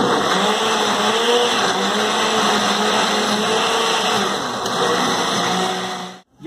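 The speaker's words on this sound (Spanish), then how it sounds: "Y lo vamos a licuar." Kitchen blender whirring as it purées tomatoes with a little water, a loud, steady motor drone held at a constant pitch for several seconds before cutting off abruptly near the end.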